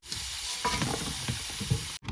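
Fish and potato pieces frying in hot oil, a steady close sizzle with faint stirring scrapes throughout, cutting off briefly near the end.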